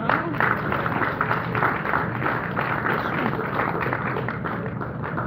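An audience at a real estate talk breaks into steady applause, a dense, continuous patter of many hands clapping at moderate loudness.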